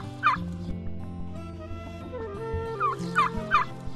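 Outdoor bird calls from a peacock with its tail fanned out, several sharp, loud honking cries near the start and again in a quick burst toward the end over a low background hum.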